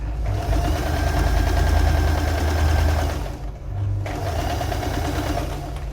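A sewing machine stitches a slit opening at a neckline with a steady mechanical whirring hum. A brief pause breaks the run before the hum resumes, close and fairly loud.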